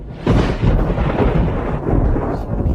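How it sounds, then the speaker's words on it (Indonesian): Thunder rumbles loud and close, a deep rolling boom that swells early and sustains for a couple of seconds, with faint rain hiss beneath. "Yang Mulia, barusan pasti hanya halilintar"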